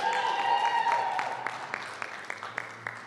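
A gym crowd at a Bay Games fitness event cheers with shouts and whoops, then settles into steady rhythmic clapping at about three claps per second, moderately loud and close.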